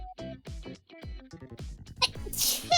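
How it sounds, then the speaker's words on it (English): Voiced, stuttering breaths build up briefly before a sharp, explosive sneeze bursts out close to the microphone near the end. "I'm gonna sneeze though."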